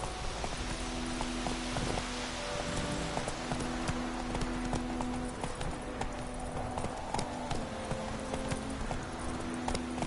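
Roach the horse trots in The Witcher 3 video game, hooves clip-clopping in a steady rhythm over a soft ambient bed with light game music tones, close and moderately loud.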